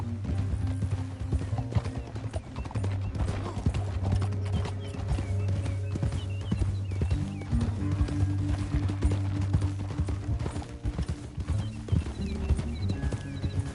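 Horses galloping in the Red Dead Redemption 2 video game, a continuous rapid clip-clop of hooves with a horse whinnying, layered over game music and ambience.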